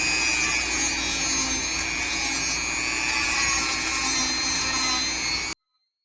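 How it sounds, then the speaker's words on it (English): Sanding of an epoxy-repaired sculpture, a steady dense abrasive rasping that runs loud and unbroken for over five seconds before cutting off abruptly into silence. "So you must use a dust mask when you sand it smoothly."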